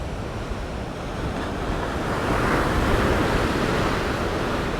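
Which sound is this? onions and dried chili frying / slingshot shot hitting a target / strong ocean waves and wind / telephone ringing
strong ocean waves and wind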